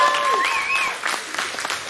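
An audience applauds at Squatch Fest 2020, a Bigfoot festival, with steady close clapping and a couple of sharp whistles near the start that thins into scattered claps and a few voices by the end.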